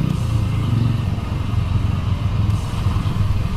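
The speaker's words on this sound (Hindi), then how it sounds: "तो यहाँ पे बाइक मिसिंग मार रही है अभी, तो मतलब पेट्रोल ख़त्म हो चुका है" A Bajaj V15 motorcycle misfires on a road as its petrol runs out, the engine running rough and uneven with stuttering, choppy pulses up close and no talking.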